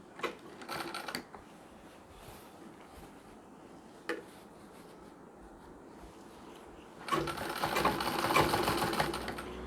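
A sewing machine stitches a chain onto a nauvari sari, with a couple of short whirring bursts and a click, then a longer, louder continuous run near the end, close by and without talking.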